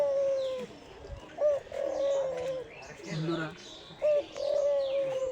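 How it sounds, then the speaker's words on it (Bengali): Small white doves coo in repeated rolling calls nearby, with chirping birds in the background and a person speaking briefly between the coos. "আর এই পাখিটি ঘুঘু সুন্দর, সাদা সাদা, অনেক ছোট আছে"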